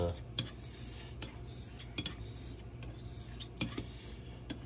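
A Thiers Issard straight razor is honed on a Japanese natural stone while polishing the back bevel, giving soft, close scraping strokes with faint metallic clicks at each turn, repeating in a steady rhythm.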